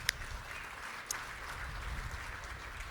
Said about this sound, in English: You know, yeah, we can applaud for that.